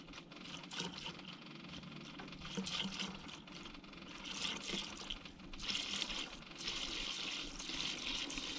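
Fuel poured into a Kubota tractor's tank, a continuous liquid trickle and splash heard close up, fluctuating slightly in strength with faint background hum.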